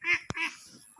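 Ducks at a village pond give two short, nasal quacks close by but fairly quiet, followed by faint background.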